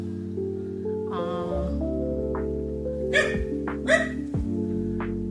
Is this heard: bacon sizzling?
no